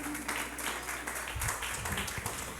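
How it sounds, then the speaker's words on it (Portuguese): Audience applause at a women's political caravan event in a public square in Rio de Janeiro state, a steady wash of many hands clapping throughout, fairly distant and even, with a low hum underneath. "Quero uma salva de palmas para eles, porque eles merecem."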